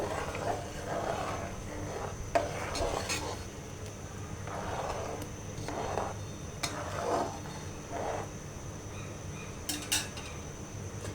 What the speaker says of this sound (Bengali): এটাকে এখন ভালো করে নাড়া দেব